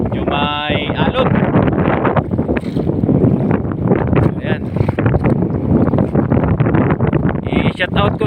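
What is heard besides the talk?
fishing boat riding over waves in the wind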